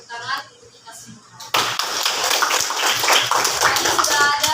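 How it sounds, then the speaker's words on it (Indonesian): After a teacher's brief remark, a class of seventh-grade students breaks into loud, energetic clapping that continues steadily until the end. "sekali lagi kita beri tepuk tangan untuk kita semua"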